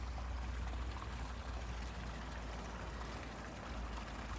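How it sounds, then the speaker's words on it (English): Water flows steadily through a small ravine, a continuous, even rushing and trickling wash heard close and without pause. "that water flowing through there, it's beautiful"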